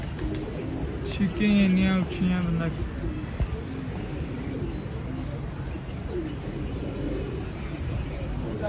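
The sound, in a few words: pigeons cooing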